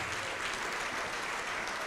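A church congregation claps steadily together in praise of the name of Jesus, a dense, even wash of applause filling the room.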